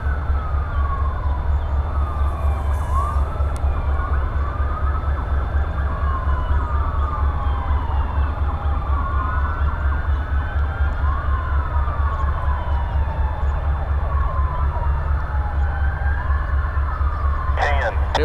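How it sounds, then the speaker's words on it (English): An ambulance siren wails in repeated rising and falling sweeps as an escort passes near a Norfolk Southern rail line, over a steady rumble of traffic, staying loud throughout. "It would appear that is an ambulance escort."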